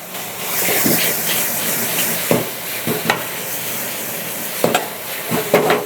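Marinated pork sizzles and hisses in a hot pan during a spicy Thai stir-fry with seasoning, while a spatula gives several sharp scraping clanks against the pan.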